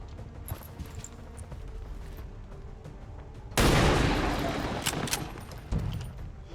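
Gunfire in the video game XCOM 2 bursts out suddenly midway, a loud rattling volley that fades, followed by another sharp shot, after a quieter stretch of faint game sounds.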